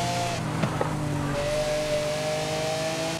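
A car engine in Forza Horizon 5 hums steadily with a rising whine, briefly revving near the start, then holding a sustained tone with a synthetic, game-like quality.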